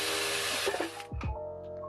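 A power drill boring a hole to mount a bracket on a robot sculpture built from an old film projector: a close, loud whirring burst that cuts off after about a second, then quiet handling noises.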